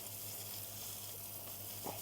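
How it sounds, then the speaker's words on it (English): Steady rush of running water rinsing a motorcycle chain, a continuous hiss with a brief splash near the end. "we are going to rinse the chain with water"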